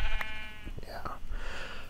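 Sheep bleat in the Minecraft video game, a wavering harmonic cry near the start followed by another short bleat, with game sounds and a voice over it.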